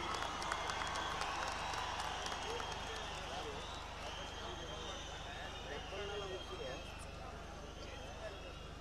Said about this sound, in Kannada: ಆ ಚಪ್ಪಾಳೆಯ ಧ್ವನಿಯೊಂದಿಗೆ ಈ ವೇದಿಕೆ ಮೇಲೆ ಬರಮಾಡ್ಕೊಳ್ಳೋಣ